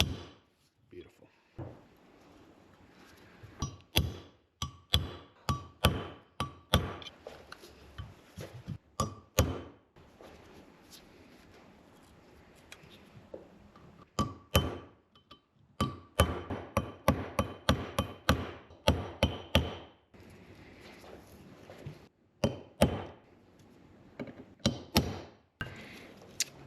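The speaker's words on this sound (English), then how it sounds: "That's where we take a flat punch and kind of tighten it up." A flat punch is hammered against rivets on a relined brake shoe from a 94-year-old Ford Model A, with sharp metallic strikes in irregular clustered bursts and pauses between them, close and clear.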